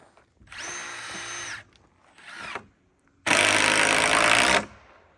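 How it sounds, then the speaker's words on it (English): Power drill driving two screws into a wooden hoist, with two short whining bursts and a brief gap between them, followed by a longer, louder run close by. "I'm putting 2 screws in there."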